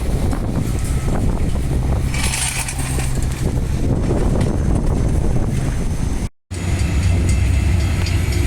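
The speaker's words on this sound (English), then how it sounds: "Another freight train heading through" A freight train rumbles steadily past a level crossing on Helena Street in Midland, a low heavy roar mixed with strong wind buffeting the microphone.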